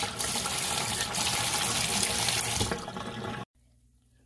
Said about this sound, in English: Let's rinse them off, and then we'll put some of them in the pot.